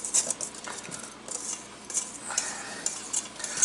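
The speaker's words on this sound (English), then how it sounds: "we're just going to whisk these together real quick to get them mixed" Baking soda and nutmeg whisked together in a bowl for bonbon siro, quick irregular scraping and metallic clinks up close, brief and fairly quiet with no talking.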